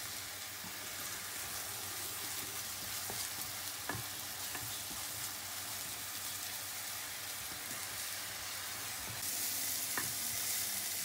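Onions refry in a pan for dum aloo, a soft, even, quiet sizzle running throughout with occasional faint pops and light stirring scrapes, and no talking.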